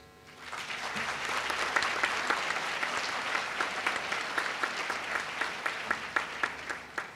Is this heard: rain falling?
no